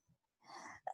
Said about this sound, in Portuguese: Deixa eu espirrar.